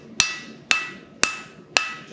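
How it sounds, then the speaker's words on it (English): A blacksmith's hammer strikes hot steel four times at an even, unhurried rhythm while forging and planishing at a lower heat. Each blow is a loud, close, ringing clang that fades before the next. "kind of planishing it, but kind of forging it at the same time, just hitting it a little bit harder"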